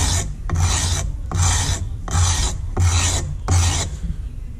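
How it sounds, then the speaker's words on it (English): A knife handle's corners being sanded by hand on 80 grit sandpaper laid over a granite tile, six rhythmic rasping strokes in even succession, close and loud, with brief pauses between them and no talking. "Our 80 grit sandpaper on our granite tile here."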